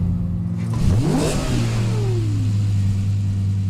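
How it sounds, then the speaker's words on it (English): A Lexus LFA V10 revs sharply, climbing to a shrill high-pitched peak and then dropping quickly to a steady idle drone, loud and close, no voices. "the LFA was an engine that was completely magic"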